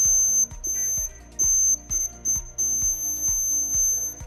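Repeated electronic beeping from a homemade laser security alarm triggered by a broken beam, with a steady high tone, pulses coming at a quick, slightly uneven rhythm, fairly loud and close, with no talking.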